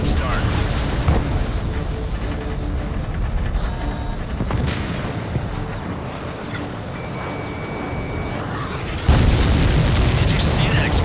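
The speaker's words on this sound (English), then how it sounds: "Did you see that explosion?" A big explosion in the Ace Combat 7 flight combat game booms out over a steady roar of jet and battle noise, and a second loud burst hits near the end.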